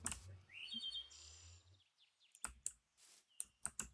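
A pet bird in a Minecraft game gives a few high chirps early on, followed by a run of sharp clicks spaced out near the end, all fairly quiet.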